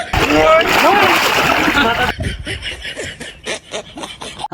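Water splashes loudly as a man is dunked under to rinse out shampoo, with laughter and excited voices over the splashing, then a quieter stretch of scattered drips and small sloshes.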